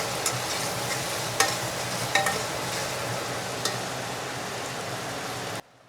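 Chopped tomatoes frying in oil for chicken biryani, a low steady sizzle with a few sharp clicks of stirring, fairly quiet and ending abruptly.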